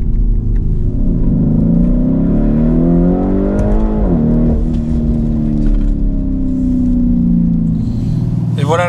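A Lamborghini Urus Mansory SUV rumbles into a garage, its deep engine loud and close as the pitch rises and falls with short revs, while someone talks over it.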